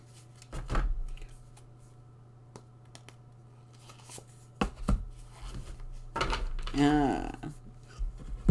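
A deck of playing cards being cut and handled, with a few soft papery taps and a short riffling flutter near the end, set against a low steady hum and faint vocal sounds.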